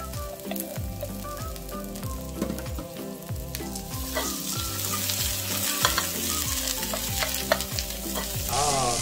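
Root vegetables stir-fried in a pan with garlic, a continuous sizzle broken by repeated scraping and stirring strokes at a steady rhythm, close and fairly loud, with no voices.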